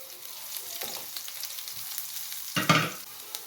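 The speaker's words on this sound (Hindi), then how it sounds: "अब ये डालेंगे कटा हुआ लहसुन।" Chopped garlic hits hot oil already holding cumin seeds, giving a low steady sizzle with a sharp burst of crackling spatter near the end, close and without talk.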